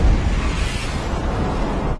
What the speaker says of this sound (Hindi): अचानक एक जोरदार धमाका हुआ।